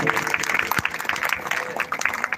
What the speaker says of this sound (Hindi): आपके कर्तव्य ताली बजनी चाहिए भाई